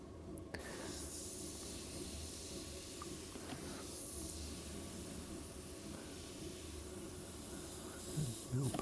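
Airbrush fed by an air compressor spraying light passes of paint, a steady close broadband hiss running continuously with no pauses, brief louder bursts near the end.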